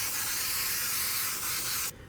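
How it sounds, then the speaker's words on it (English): Spray adhesive hisses steadily from a can onto foam and a board for a serpentine dining chair seat, then stops sharply after about two seconds. "Then I'm going to spray an adhesive."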